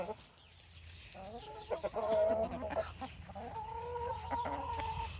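Free-range chickens crowd around a single broken egg, clucking and squawking close by. Their calls come in overlapping bursts over faint background noise.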